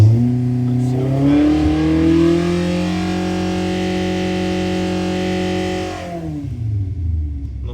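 A race car engine with its exhaust removed revs hard and loud for about six seconds, its pitch climbing and holding steady before dropping back to a rough idle.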